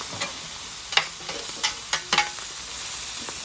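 Sausage, mushrooms and veggies sizzling in grease on a griddle, a steady bright hiss with scattered pops and spatula scrapes, close, no talking.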